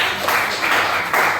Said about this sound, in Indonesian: Berikan tepuk tangan Tuhan.